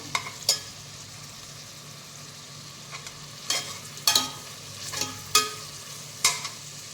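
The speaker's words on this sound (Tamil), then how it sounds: "வெங்காயம் பொன்னீரம் வர வரைக்கும் வதக்கிக்குவோம்" Onions sauté with cinnamon, cloves and cardamom for a homemade chicken biryani, making a soft, quiet sizzle broken by several distinct stirring scrapes and clacks spaced a second or so apart.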